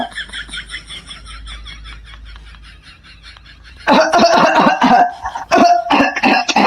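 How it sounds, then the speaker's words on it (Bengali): A person coughs after smoking, with harsh rapid fits and loud bursts in the second half that follow quieter, choppy breathy sounds. "প্রথম প্রথম একটু কাশি হয়"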